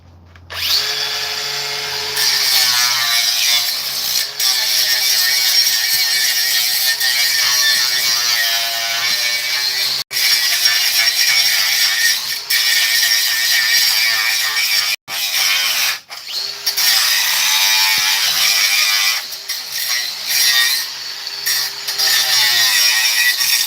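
DeWalt Atomic cordless angle grinder running on a nearly dead 1.7 battery, a loud close high whine sustained for over twenty seconds, with brief dropouts and surges as it stutters and restarts.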